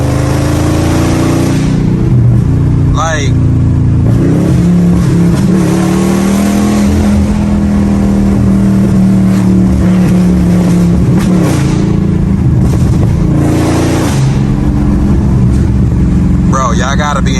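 A cammed, tuned aftermarket Dodge SRT engine revving while driving, loud throaty acceleration pulls rising and falling with gear changes, heard from inside the car with occasional talk over it.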